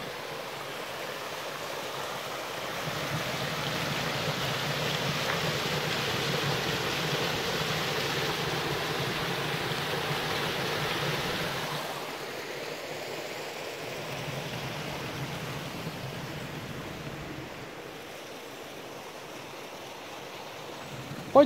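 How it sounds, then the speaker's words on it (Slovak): A small waterfall in a forest game reserve gives a steady rushing, hissing flow of water, continuous and fairly near, easing slightly in the latter half. "Krásny vodopádik."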